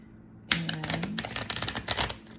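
Tarot cards being shuffled in a quiet room. A sudden close burst of rapid riffling clicks runs for under two seconds, with no voice over it.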